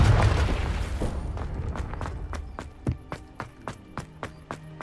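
A Confringo spell explodes in Hogwarts Legacy with a loud, rumbling blast that fades out, followed by a steady run of quick footsteps or light pops.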